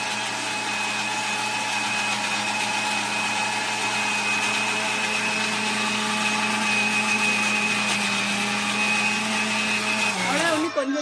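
A wet grinder grinds pearl millet and jowar batter for idli and dosa, a loud, steady motor drone with a continuous churning whir that holds for most of the stretch, then cuts off abruptly near the end.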